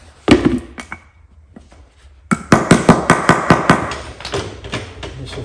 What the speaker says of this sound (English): So it's slightly worn right here, so I'm gonna take this bushing out of here.